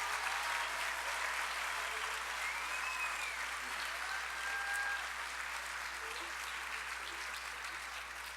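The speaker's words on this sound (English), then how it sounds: "Please, one more time, give our young folks a round of applause" Audience in a hall applauding an all-county honor choir, dense sustained clapping from many hands that fills the room and tapers slightly toward the end.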